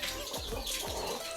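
Chickens released one by one from a coop in the morning give a few brief clucks and wing flaps close by, over a steady background hiss.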